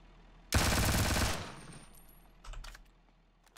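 AK rifle gunfire in the video game Ring of Elysium: a loud, rapid automatic burst lasting about a second, followed by a few fainter scattered clicks and thumps.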